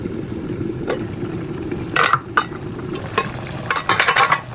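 Nigerian fried rice cooking on medium heat in a pan, with a steady low sizzle and frying crackle throughout, broken by several louder scraping stir strokes and clatters toward the end.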